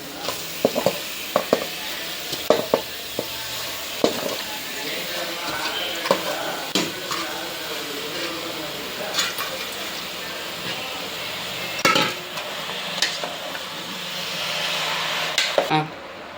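Goat intestine (boti) frying in a pan with ginger garlic paste: a steady sizzle with repeated stirring scrapes and knocks, close up, with occasional faint speech underneath.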